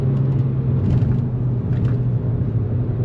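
A 2002 Audi TT 1.8T Quattro accelerates, its engine humming loudly with a steady low drone and a subtle turbo whine layered on top, heard from inside the car.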